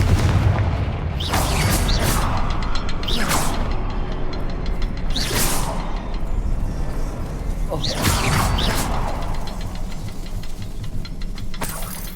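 A fire-blasting spell is cast in a video game, sounding as a series of heavy booming explosive bursts with crackling debris, spaced a second or two apart over a rumbling low background, with some talk mixed in.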